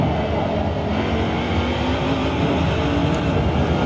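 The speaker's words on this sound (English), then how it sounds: "you can hear the car struggling to get grip out of some of the corners" A Corvette Daytona Prototype race car engine in the video game Assetto Corsa, at Mugello, roars steadily and loudly throughout, a dense continuous drone with no voices over it.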